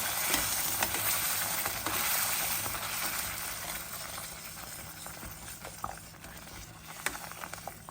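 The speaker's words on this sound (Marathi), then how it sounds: "दूध घालून सारखा हलवत राहा, म्हणजे त्यात गुठळ्या होत नाही" Semolina sheera stirred continuously after milk goes in, a dense bubbling sizzle with repeated soft scraping strokes, fairly close and steady throughout.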